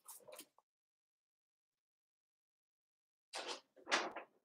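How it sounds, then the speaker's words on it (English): A door is shut indoors with two short bumps and clicks, a brief sound at the start and then a louder pair of knocks a few seconds later, quiet and close with silence between. "Let me close the door real quick."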